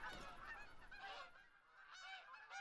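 Geese in the hunting game TruHunt honk repeatedly in a nasal, overlapping flock chorus, close and fairly loud, with several calls stacking over a couple of seconds and no talk.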